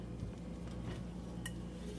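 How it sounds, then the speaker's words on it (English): Pumpkin roll filling being stirred in a bowl before blending, with soft utensil scrapes and a faint clink against the bowl, quiet and steady throughout. "Mix everything up really good"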